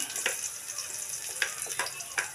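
Chopped garlic and onion sizzle steadily in a hot pan for a cheesy hot dog sauce, a close, even crackle with a few sharper pops and stirring scrapes, with no talk.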